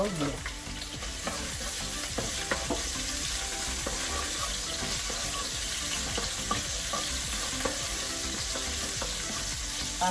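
Chopped ginger frying in oil until golden brown, a continuous close crackling sizzle with stirring scrapes running throughout, no voices.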